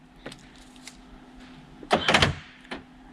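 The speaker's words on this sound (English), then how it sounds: "I'll hit the unlock button." A few soft mechanical clicks, then a sharp burst of quick actuator clunks as the door locks of a 1999 Land Rover Discovery unlock by key fob, followed by one last faint click.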